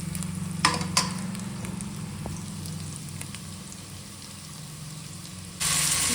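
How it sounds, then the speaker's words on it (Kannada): Onions roasting in a pan for Nati style mutton biryani, a continuous sizzle with a few sharp stirring clicks early and a louder hiss near the end. "ಈರುಳ್ಳಿ ರೋಸ್ಟ್ ಆಗ್ತಾ ಇದೆ"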